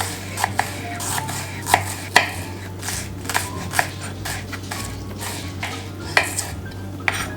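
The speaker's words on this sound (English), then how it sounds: "I'm also chopping up some onion in small pieces." A knife taps rapidly and irregularly against a cutting board, chopping onion close by over a low steady hum, with no talking.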